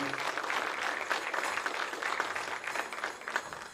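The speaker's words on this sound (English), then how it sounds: "Hey, Paul, a round of applause." A crowd applauding, dense steady clapping throughout with a few louder bursts.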